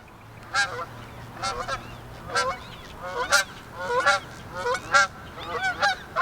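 Geese honk repeatedly nearby, a run of loud, evenly spaced calls with no other sounds between them.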